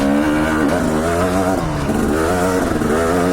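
A trail motorcycle revs hard and runs up through the gears, its engine note climbing and dropping with each shift, loud and close throughout with no talking.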